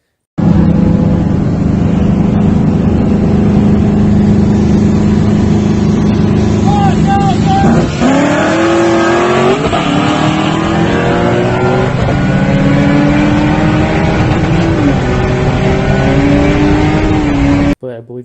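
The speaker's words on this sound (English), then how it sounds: "when the nitrous kicks on, it's cutting out really bad at the very beginning" A Pontiac Trans Am engine roars steadily as it accelerates with nitrous kicking on, stumbling and cutting out early before the pitch climbs smoothly. The engine is loud and close, with a voice talking over it.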